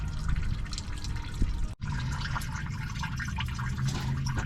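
Liquid drains steadily out through a plastic drain plug on an overheating fishing boat engine, a close, continuous watery trickle and dribble with one brief break partway through.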